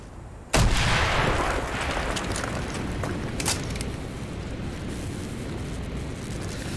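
An explosive charge blasts a hole in a wall in Call of Duty Black Ops, a sudden loud boom followed by a long rumbling roar and falling debris.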